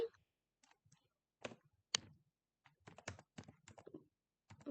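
HTML code being typed on a computer keyboard, with quiet, crisp key clicks in irregular short clusters and pauses, recorded close and alone.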